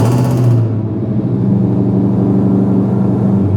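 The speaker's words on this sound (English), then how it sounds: "let's go ahead and remote start the truck" Ford F-150 Raptor R pickup engine firing up on remote start in very cold weather, a loud broadband burst settling into a deep, steady idle rumble that continues alone with no talk.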